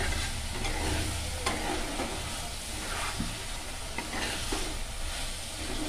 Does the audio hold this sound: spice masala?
yes